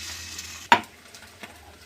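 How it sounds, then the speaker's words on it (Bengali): Two eggs fry in a pan with a soft, low sizzle, broken by one sharp utensil clink and a fainter tap afterward. "তো ডিমটা ভাজা হচ্ছে হোক"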